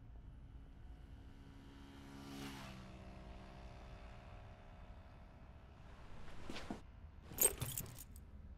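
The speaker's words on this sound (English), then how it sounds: "Where did you get these keys?" A set of car keys jangles in two brief, faint rattling bursts near the end, over a low steady background hum with no speech.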